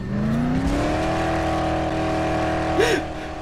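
A vehicle engine in the Dead Island video game drones and rises in pitch as it accelerates, steady and close, with a brief whine near the end.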